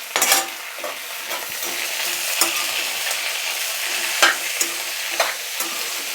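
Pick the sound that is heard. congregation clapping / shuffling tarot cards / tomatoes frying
tomatoes frying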